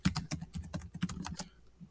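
Quick, uneven run of keystrokes on a computer keyboard, typed into a text box, close and clear with no voices, the tapping thinning out toward the end.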